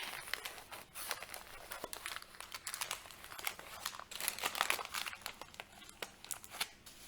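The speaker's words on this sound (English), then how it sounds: "I will roll it with the baking paper now" Baking paper crinkles and rustles steadily as a chocolate Swiss roll is rolled up in it, a close, busy run of crackling with sharp crunches and no talking.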